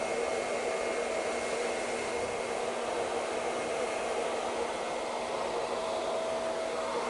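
Hair dryer blowing steadily while drying hair, a continuous loud whooshing airflow with a constant motor whine, close and uninterrupted, with no talking.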